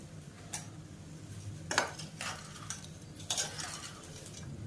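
Ingredients frying and stirred in a pan for instant chutney powder, heard as soft scrapes and clinks of a spatula against the pan over a low background hum, close and faint with no talk.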